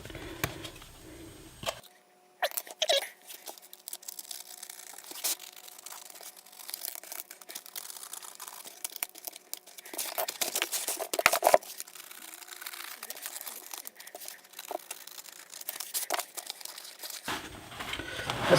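EPP foam being cut to a thin sheet for an RC wing, close crinkly crunching and tearing noises in irregular bursts with short pauses and a silent gap near the start, no one speaking.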